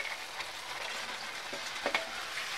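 Cooked dal and rice sizzle in a pan on high flame while being stirred, a steady frying crackle with a few scraping stir strokes near the end, close and without talking.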